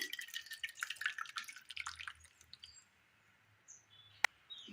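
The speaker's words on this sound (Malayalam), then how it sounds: "രസം ഇനി ഒരു പാത്രത്തിലേക്ക് ഒഴിച്ചു കൊടുക്കാം" Tomato rasam is poured into a bowl, with a faint close trickle and dripping for about two seconds that fades to quiet, then one sharp click near the end.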